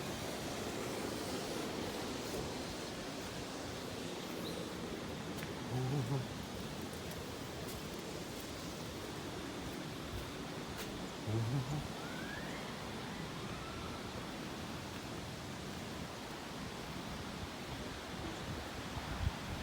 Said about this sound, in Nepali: यस्तो डरलाग्दो पानीको आवाज आएर